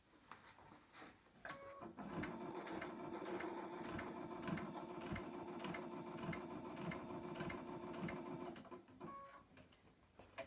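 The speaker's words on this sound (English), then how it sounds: "I want to back stitch this right here." A sewing machine runs a steady, close burst of fast stitching as it back-stitches a double pocket on fabric, with brief clicks at the start and end and no talk.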